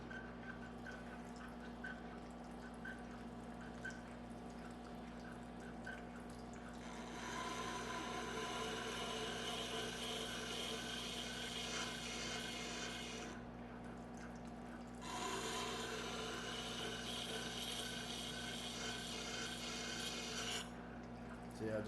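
A WEN wet/dry sharpening system grinds a blade on its wet stone with a steady scraping rasp and a constant motor hum, swelling louder in two long stretches.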